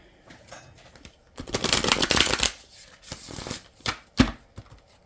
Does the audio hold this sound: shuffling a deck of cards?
yes